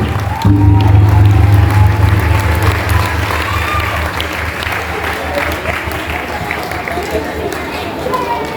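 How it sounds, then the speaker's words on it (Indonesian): An audience applauds at the launch ceremony of Santri Institute Indonesia at a pesantren, a loud sustained wash of clapping and crowd chatter that slowly tapers, with amplified voice over the hall. "Beri tepuk tangan yang kedua."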